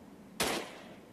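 A single sharp gunshot at barrels in the Android game Desert Wars cracks out and decays quickly over a low background hum.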